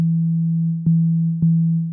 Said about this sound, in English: it's definitely a sine wave.